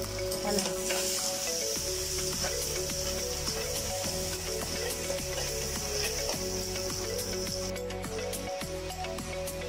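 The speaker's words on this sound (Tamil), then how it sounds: "இது வந்து இந்த வெங்காயம் எண்ணெயில் போட்டுக்கோங்க" Onions frying in oil for a prawn curry give a steady, close sizzle with crackling and occasional stirring clatter throughout.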